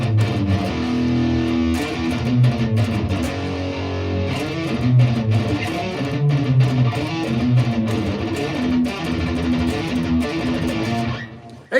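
Guitar playing a song: a steady, dense passage of chugging, distorted riffing with sharp picked attacks, continuous for about twelve seconds before cutting off abruptly.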